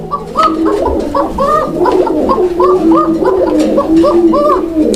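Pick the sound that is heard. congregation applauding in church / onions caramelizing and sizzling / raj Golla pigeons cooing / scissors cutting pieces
raj Golla pigeons cooing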